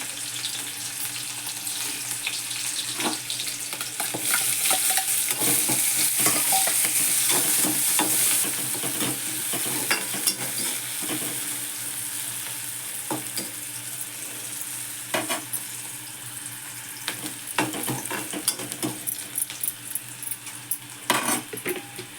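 Fenugreek greens with garlic and green chili frying in hot oil, a continuous sizzle with repeated scrapes and clinks of a spatula stirring against the pan, no voices.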